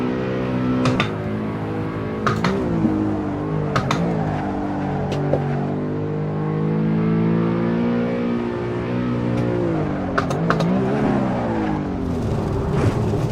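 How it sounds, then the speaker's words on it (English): A high-revving car engine in the Assetto Corsa racing game screams loudly and continuously, pitch rising and falling through gear changes with brief sharp shift blips, on a virtual canyon drive in LA, with no talking. "Such a high revving engine."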